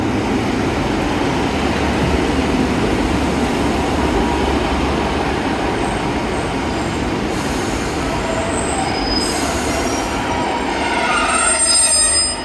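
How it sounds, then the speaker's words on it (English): A train rumbles along steadily near Dawlish with continuous rolling noise and faint high wheel squeals, heard from on board throughout. "Happy train."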